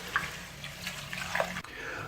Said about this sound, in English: Okay, so this is the last time that I'm washing the rice.